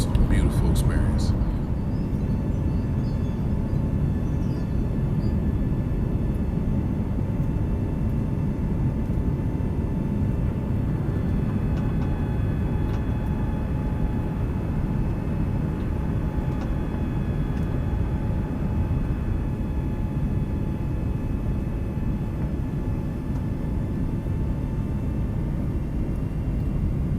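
An airliner taking off from Phoenix airport, heard from inside the cabin as a steady, loud low engine roar and rumble that continues unbroken throughout.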